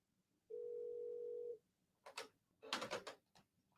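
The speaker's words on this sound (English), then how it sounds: "I have got to learn to mute my phone." A mobile phone that was not muted sounds during a radio talk show, giving one steady, quiet tone about a second long. A few short clattering bursts follow in quick succession.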